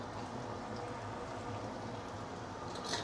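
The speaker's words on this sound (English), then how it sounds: "Let's saute this until it is fragrant." Ginger, shallot, garlic and fresh coriander roots sauteing in an Instant Pot, giving a steady, close sizzle and bubbling crackle throughout, with no talking.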